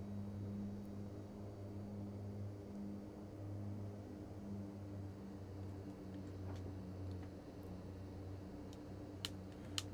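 Steady droning hum of a Short SC7 Skyvan twin turboprop in a flight simulator game, a low, even engine tone with faint ticking clicks near the end, no talking.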